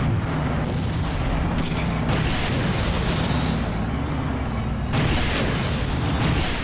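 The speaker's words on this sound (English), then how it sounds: "Semi-homing power missile." Semi-homing power missile blast in the Twisted Metal 4 car combat game, heard as a dense, loud rumbling boom amid continuous game noise, with a renewed burst near the end.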